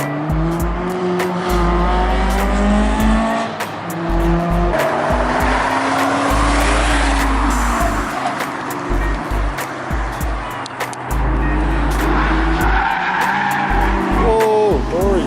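A car drifts at a race track, its engine roaring steadily while the tires squeal loudly and continuously, with people talking over the noise.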